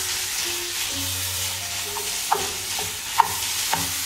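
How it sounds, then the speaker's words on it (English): Chicken braising in olive oil with Jamaican curry seasoning, a steady sizzle broken by a few clinks and scrapes of a utensil stirring the pan. "You're allowing the actual chicken to braise with the actual olive oil and the Jamaican curry seasoning."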